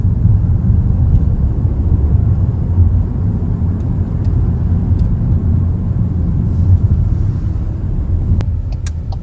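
A car driving along, heard from inside as a loud, steady low rumble of engine and road noise that carries on without a break, with a few faint clicks and rattles on top.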